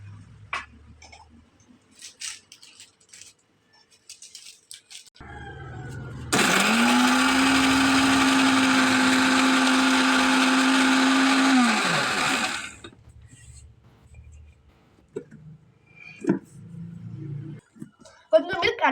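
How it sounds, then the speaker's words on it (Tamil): A blender grinds Dark Fantasy biscuits with milk and sugar in one loud, steady burst of about six seconds, framed by quiet handling clatter before and after. "இந்த 4 டார்க் ஃபேண்டஸ்டியையும் நம்ம நல்லா கிரைண்ட் பண்ணி எடுத்துக்கலாம்"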